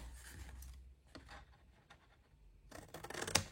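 Scissors snip through paper or fabric pattern pieces, cutting away unneeded rectangular sections in a few faint, brief cuts, with a louder burst of rustling and snipping near the end.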